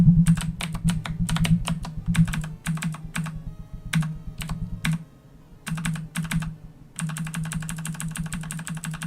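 Rapid clattering keystrokes on a computer keyboard come in bursts with brief pauses between them, close and clear over a steady low background hum.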